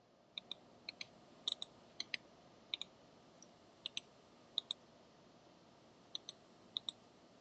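Sharp computer mouse clicks, mostly in quick pairs, spaced irregularly and close up over a faint steady hum in a quiet room.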